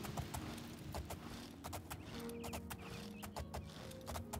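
Horses in the video game Oblivion crossing a bridge, their hooves clopping in a steady, hollow rhythm that is close and moderately loud, with faint tonal game sounds beneath and no talking.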